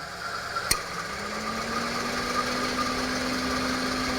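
An idling Honda CR-V second-generation engine with 234,634 km hums steadily; a sharp click sounds, then the quiet air conditioning compressor engages with a low, even drone that continues to the end.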